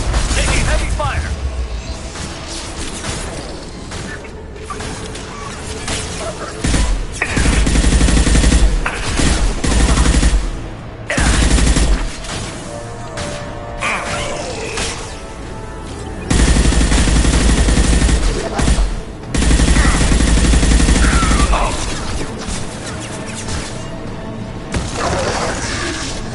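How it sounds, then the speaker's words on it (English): Heavy sustained gunfire in Mass Effect 2, loud continuous automatic bursts and weapon mechanisms over dense combat noise, with brief pauses between volleys and game dialogue spoken over the fighting. "Taking heavy fire."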